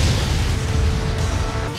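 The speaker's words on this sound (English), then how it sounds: "Explosion style landmine fist!" A loud anime explosion from an explosion-style landmine fist jutsu: a dense, roaring blast that fills the whole moment with heavy low rumble and crackling debris, sustained without pause.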